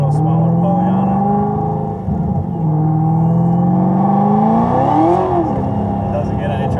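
A car engine fitted with a quarter blower and a smaller pulley revving hard and loud up close, its pitch climbing in sustained pulls with a brief dip, with a voice talking under the roar.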